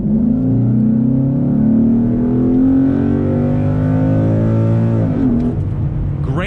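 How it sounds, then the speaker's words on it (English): A 2014 Ford Mustang GT California Special engine with a 6-speed automatic revs up under acceleration, a loud, continuous roar with a rising pitch that drops off near the end as it shifts. "Great sound coming from that engine."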